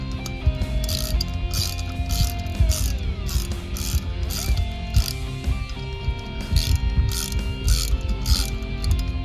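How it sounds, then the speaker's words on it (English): A ratchet tightens a nut on a Toyota Hilux wheel hub, its close, rapid clicking coming in repeated bursts of strokes with short pauses between, loud and alone. "grab your nut and then grab your ratchet"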